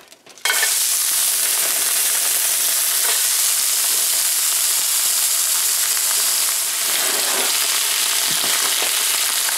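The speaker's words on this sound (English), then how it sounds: "I'm going to throw in some peppers." Peppers thrown into a hot pan, an abrupt onset followed by a loud, steady, continuous frying sizzle up close, with no talking.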